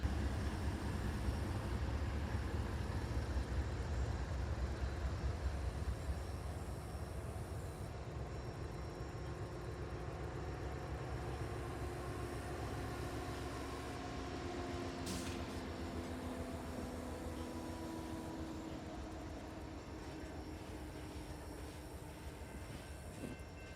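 Freight locomotive 5776 heading a northbound tank train, a steady loud rumble of rail cars and engine slowing to a halt, with a sharp squeal around the middle, heard close and continuously without voices.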